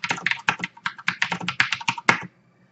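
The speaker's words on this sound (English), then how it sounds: "has nice Cherry MX Blue keys that are nice for typing, and of course it makes a nice clicking sound." Fast clicky typing on a HyperX Alloy FPS mechanical gaming keyboard with Cherry MX Blue switches and a steel frame, about a dozen crisp close keystrokes in quick irregular bursts, then silence.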